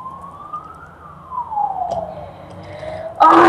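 An ambulance siren outside, a single rising and falling wail heard faintly from a distance, ending in a sudden loud burst of noise.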